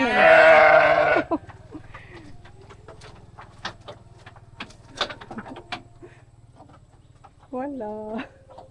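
A ewe near Batukaras, Indonesia, gives a loud, close bleat. Quiet rustles and clicks follow, then a second, shorter bleat near the end.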